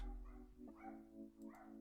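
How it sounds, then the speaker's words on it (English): A dog barks and yips a few times in the background of a quiet room, faint and distant, with short whimpering bursts and no speech over it. "Excuse my dog in the background."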